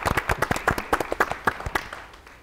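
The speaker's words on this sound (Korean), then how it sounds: "다시 한 번 더 박수 부탁드립니다." An audience applauds a speaker at a Korean seminar on KOSDAQ listing for biotech and healthcare companies, a dense burst of many hands clapping that gradually thins and fades away.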